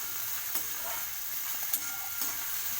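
Fodani rice with chili powder being stir-fried until brown, a steady close sizzle with occasional sharp clicks of a spatula against the pan.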